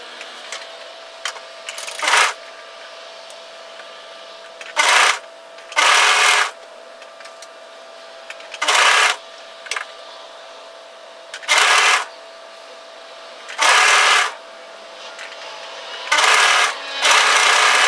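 A home sewing machine stitches three fabric layers together for a gathered raglan sleeve cuff, running in about seven short bursts of whirring stitching separated by pauses, close and fairly loud over a steady low background hum.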